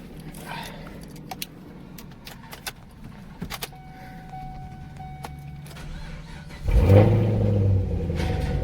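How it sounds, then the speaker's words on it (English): Keys jangle and faint clicks, then a 2010 Camaro SS V8 cranks and fires, settling into a loud, deep rumbling idle up close. "let's fire her up right now, see how it sounds"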